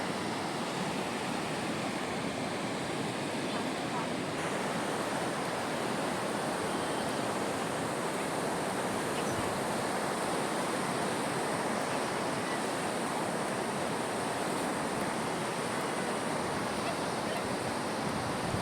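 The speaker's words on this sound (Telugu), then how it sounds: "కింద వాటర్ ఫాల్ వ్యూ ఇప్పుడు కొద్దిగా తక్కువగా ఉంది" A constant rushing roar of a waterfall near Rayagada on the Andhra–Odisha border, dense and unchanging for the whole stretch, with no voices.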